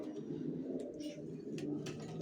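Racing pigeons coo softly in their loft, a faint continuous murmur of overlapping low cooing calls with a few brief higher flutters and chirps.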